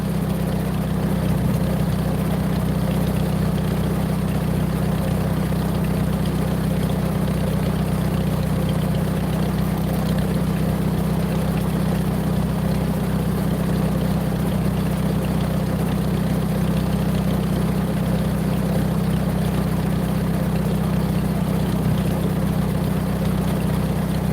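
An old tractor engine idles in a long, unbroken low drone that stays loud and close throughout, with no one speaking.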